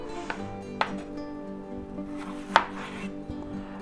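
A sharp knife chops bell peppers on a cutting board, giving a few distinct close knocks spread unevenly over a steady low kitchen hum.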